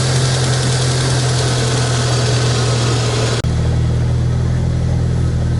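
A Jeep Wrangler YJ engine idles steadily after sitting unstarted for about three months, a loud, close, even hum whose tone shifts slightly partway through.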